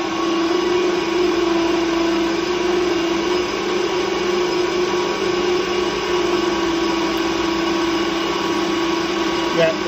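Metal lathe taking a 1 mm cut in hard material while making a hexagon-drive chuck key, a steady loud motor whine with a constant tonal hum running unbroken throughout.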